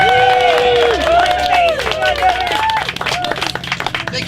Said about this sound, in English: And everyone clapped and cheered